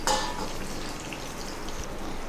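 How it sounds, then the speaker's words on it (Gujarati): Prepared gravy hits a hot pan while cooking aloo matar sabji, giving a steady sizzling and frying hiss with a sharper burst at the start, close and moderately quiet, no talking. "હવે આપણે તેમાં તૈયાર કરેલી ગ્રેવીને ઉમેરવાની છે।"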